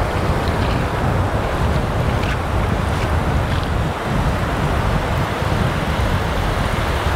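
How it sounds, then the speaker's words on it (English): Strong wind buffets the microphone on a beach during surf fishing, a steady loud roar with surf rumbling underneath, continuous throughout with no talking. "with the wind as strong as it's been."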